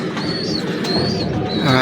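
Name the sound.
Kamagar pigeons cooing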